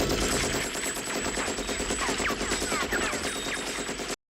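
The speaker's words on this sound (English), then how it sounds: "Just listen to these chunky gun sounds" Rapid, continuous machine-gun cannon fire from Top Gun Maverick rattles out in a dense, unbroken burst of sharp reports, loud and without voices, cutting off abruptly at the end.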